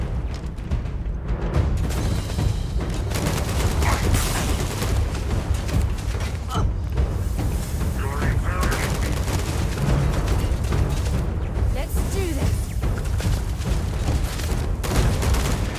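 Automated turrets in the Starfield video game firing in sustained bursts, a dense, continuous rattle of gunfire and booms layered under loud game noise throughout.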